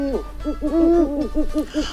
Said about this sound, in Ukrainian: Всі чули моторошний нічний голос сови.